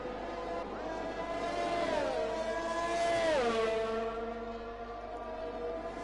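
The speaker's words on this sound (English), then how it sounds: "So quick are these F1 cars." A Formula 1 race car in a sim racing game screams at high revs, its pitch climbing and then dropping sharply twice as it shifts through gears, loud and continuous for the whole stretch.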